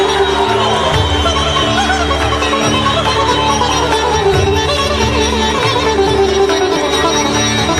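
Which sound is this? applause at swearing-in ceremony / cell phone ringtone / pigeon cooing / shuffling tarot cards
applause at swearing-in ceremony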